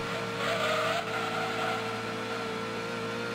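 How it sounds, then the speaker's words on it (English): In Gran Turismo 2, a sports car fitted with an exhaust upgrade holds a steady, fairly quiet engine drone with a brief rise in revs near the start. No talk is heard. "the engine sound on this thing with the exhaust upgrade"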